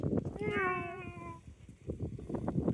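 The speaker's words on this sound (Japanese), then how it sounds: "この島も結構猫多いっす" A cat on one of the Goto Islands gives a single drawn-out meow, fairly close and clear, over rough outdoor background noise and scattered thumps.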